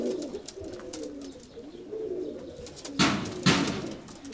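White pigeons coo steadily in low, rolling calls, with a couple of louder bursts of flutter or movement near the end, close by and with no talking.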